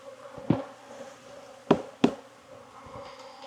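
Close, steady buzzing of honey bees in an apiary in October, with a few sharp knocks or thumps cutting through it as bees are shaken from a hive for a mite check.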